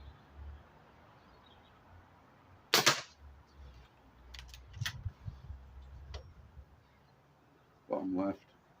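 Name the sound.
Lobo Mustang air rifle shots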